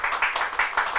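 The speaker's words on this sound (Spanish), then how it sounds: "Que se escuchen los aplausos, por favor." Audience applause at a live game-show style event, a brief burst of rhythmic clapping with regular pulses, moderately loud and close.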